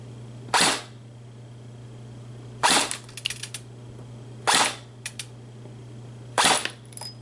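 A JG G3 airsoft rifle fires 0.25 gram BBs on a 7.4 volt LiPo battery in four loud, separate bursts, each followed by faint rattles. A steady low electrical hum runs underneath throughout.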